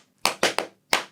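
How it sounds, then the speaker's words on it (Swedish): Four sharp, separate hand claps in an uneven rhythm, close and fairly loud, with short silences between them in an otherwise quiet room during a podcast recording. "Ni får gärna klappa, Gabriel."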